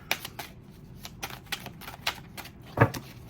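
Tarot cards are shuffled and handled in a quick series of crisp, riffling clicks and flicks, close and fairly quiet, ending in a slightly louder snap.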